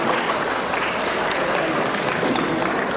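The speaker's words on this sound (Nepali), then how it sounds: "ताली त अलिक ठुलो आउनु पर्ने होइन र" An audience at a Tamu Lhosar celebration in Brunei applauds, with dense, steady clapping filling the hall for the whole stretch.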